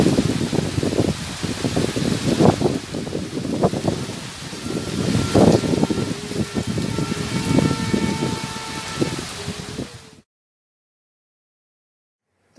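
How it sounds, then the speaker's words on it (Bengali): Steady rain falls outdoors as a dense, even hiss with scattered patters and drips. It stays moderately loud for about ten seconds, with no voices, then cuts off into silence. "বৃষ্টিটা একটু হয়ে যাক"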